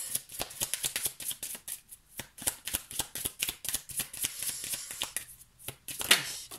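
Tarot cards being shuffled and dealt, a rapid run of crisp papery riffles and slaps close up, pausing briefly before more flicks and a final card snapped down, with no talking.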